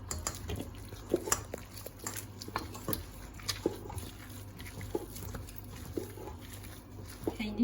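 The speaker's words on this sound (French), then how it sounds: "Il faut bien mélanger." A thick, viscous transparent soap mixture is stirred in a pot, with repeated scraping and clinking of the utensil against the pot over a low hum and faint talk.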